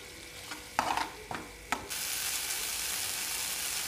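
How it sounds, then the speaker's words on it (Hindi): Masala stirred in ghee for okra sabzi: a few sharp spoon scrapes and clatters over a low sizzle, then a steady, even frying hiss that fills the rest. "इसको हम चलाते रहेंगे, ये एक मिनट तक हम इसको अच्छे से पकाएंगे"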